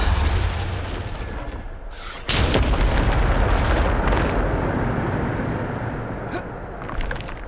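A Depulso spell impact in Hogwarts Legacy on PS5, a sudden heavy booming blast that lands abruptly and rolls into a long rumbling roar, with a softer thump following near the end.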